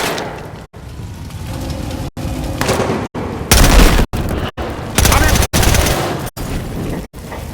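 Sustained gunfire in the video game Battlefield Hardline, loud dense bursts of shots with booming impacts, broken by short abrupt gaps, continuous and close throughout.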